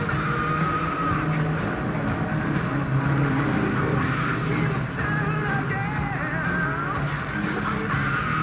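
Mini stock off-road race trucks in a Run What You Brung class at a Lucas Oil Off Road regional in Arizona roar off at the green flag, a dense, continuous wall of engine noise with rising whines and tire scrabble.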